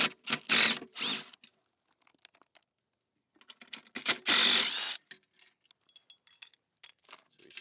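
Ratchet wrench removing bolts from a skid steer seat bracket, close rapid clicking in bursts separated by short pauses.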